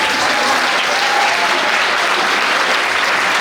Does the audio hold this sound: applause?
yes